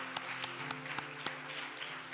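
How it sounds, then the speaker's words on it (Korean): A church congregation claps in thanks after a deaconess's testimony at a special early-morning prayer service, with steady, fairly soft applause running throughout and a few sharper individual claps standing out. "다시 한번 감사의 박수 하겠습니다"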